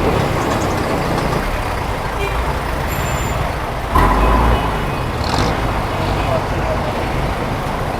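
Heavy traffic jam on a road in Fairview: a dense, loud rumble of idling trucks, buses and cars with a brief air-brake hiss and a louder surge midway, steady throughout.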